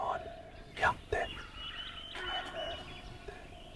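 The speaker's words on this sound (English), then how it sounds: "Sambar alarm call." In the forest of Bandhavgarh National Park, India, a sambar deer gives two short, honking alarm calls from a distance over quiet jungle ambience, with hushed voices nearby.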